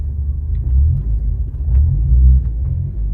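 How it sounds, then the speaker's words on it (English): A 1988 Ford Escort RS Turbo on the move, heard from inside as a loud, steady low engine and road rumble that rises and falls slightly, with no talking. "I'll see you when I'm in the car driving round to the test centre."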